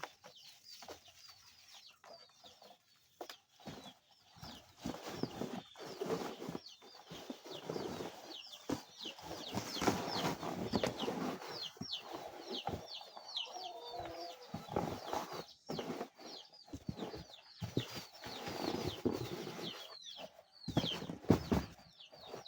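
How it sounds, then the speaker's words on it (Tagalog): Chickens clucking and squawking close by in a rural Filipino yard, with irregular bursts of clucks, some wing flapping and rustling, and quiet gaps between the calls. "Kunin natin muna yung manok mga kapaps."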